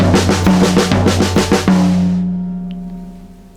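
Rapid accented triplet pattern played on toms and snare drum, a dense burst of close, loud strokes for about two seconds that ends and lets the drums ring and decay.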